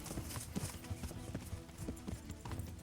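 Horse hooves clip-clop steadily in a video game as a character rides, giving a fast, even, repeated clopping at low level with no talk.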